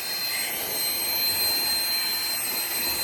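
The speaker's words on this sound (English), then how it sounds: "That's one heck of a little low air blower" A small air blower hissing in a loud, continuous, steady rush while it blows off an engine part of a 2005 Land Rover LR3 in a yard.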